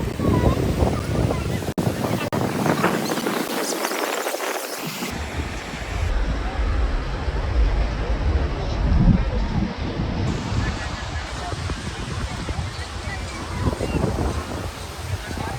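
Ocean surf rolls in continuously on a beach, with steady wind buffeting the microphone throughout.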